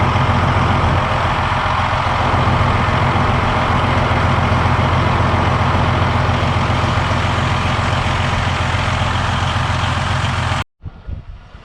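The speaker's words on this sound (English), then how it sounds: "next thing I'm gonna do is start the truck." A truck engine idles close by with a loud, steady low rumble that holds unchanged for about ten seconds, then cuts off abruptly.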